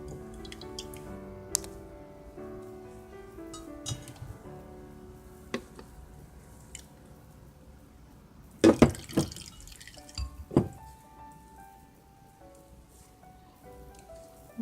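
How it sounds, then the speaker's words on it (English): Juice from blended tiger nuts strained for Ghanaian atawde milk, dripping and trickling into a bowl: faint scattered drips with a brief burst of splashing around the middle, quiet and without talk. "You want to strain all the juices from the blended tiger nuts, and we'll strain it for about 3 or 4 times."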